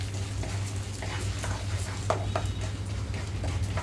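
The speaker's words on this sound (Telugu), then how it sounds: "లో ఫ్లేమ్లో ఉంచి వేయించుకుంటున్నాను" Moong dal and chana dal fry in oil for an upma tempering, making a soft, continuous sizzle over low heat with scattered light clicks and scrapes.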